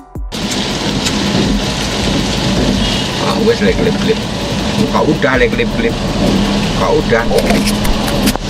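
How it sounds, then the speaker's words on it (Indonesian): Hail pelts a car in Bedahan, Sawangan, Depok, making a loud, dense, constant patter of icy impacts on the bodywork, with voices talking underneath through most of it. "Fenomena hujan es."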